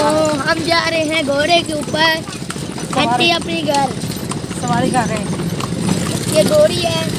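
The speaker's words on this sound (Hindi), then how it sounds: "हम जा रहे हैं घोड़े के ऊपर, घंटी अपनी घर सवारी कर रहे हैं।" Horse hooves clip-clopping as the animal pulls a tanga cart, a steady rhythmic trot heard close up beneath lively chatter and voices of riders throughout.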